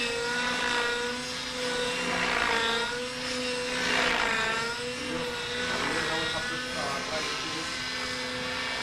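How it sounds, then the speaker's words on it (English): A small autonomous helicopter performs aerobatics, its rotor whine and buzzing engine loud and continuous, swelling and fading as it is thrown back and forth. "the helicopter is being thrown back and forth"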